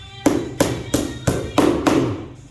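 Six sharp hammer blows drive nails into a wooden kitchen door made with Malaysian plywood, struck in a steady, evenly spaced rhythm close by with no talk.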